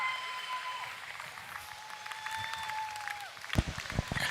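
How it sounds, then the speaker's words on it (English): Applause from the audience in a breeding doe show arena, a moderate spread of clapping that builds toward a louder burst near the end, with a faint voice and background hum underneath. "Let's give them a round of applause."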